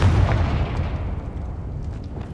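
Confringo blasting spell exploding in Hogwarts Legacy, a single heavy low boom that rumbles and fades over a couple of seconds, with no talking.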